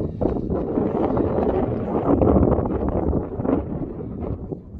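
Steady, blustery wind buffeting the microphone outdoors on Barmouth Bridge, a continuous low rumbling roar with gusty swells and no voices.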